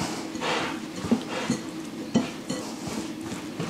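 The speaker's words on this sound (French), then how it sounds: "on va mélanger tous les ingrédients pour faire un mélange plus ou moins homogène" Keto stuffed-pepper filling mixed with pesto in a bowl, a spoon scraping and clinking against the dish in a steady stirring rhythm with a few sharper knocks.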